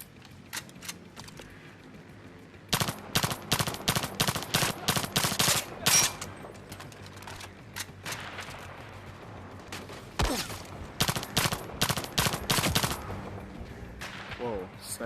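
Rapid gunfire in the shooter video game Zero Caliber, with bursts of sharp automatic shots and some single cracks, loud and close, separated by short lulls.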